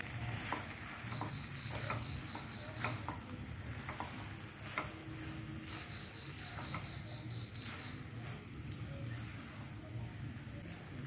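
Maggi noodles with sugar and dark soy sauce are stirred in a pan on a high gas flame, with a steady soft sizzle under repeated faint scrapes and ticks of the utensil.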